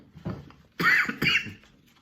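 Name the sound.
cough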